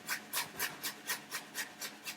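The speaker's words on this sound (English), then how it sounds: "So just grate it with a cheese grater." Courgette scraped across a cheese grater by hand for a low-carb cake, eight or nine even rasping strokes in a steady rhythm, close and fairly quiet, with no talking.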